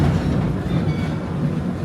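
An amusement park train at Kings Island rolls along its rails, a close, continuous low rumble with rhythmic wheel clatter and faint squeaks.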